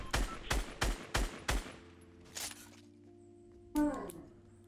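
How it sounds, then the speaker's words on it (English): Rapid gunfire in the Fortnite Battle Royale video game: five loud, evenly spaced shots in quick succession, then a softer distant shot, a lingering electronic hum, and one more sharp impact near the end. "Who was sniping at her?"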